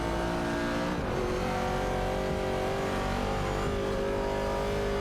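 Video-game race cars, an Opel Commodore and a 1970 Chevrolet Camaro, run close together with loud sustained engine drones whose pitch climbs and shifts through gear changes, steady and near throughout.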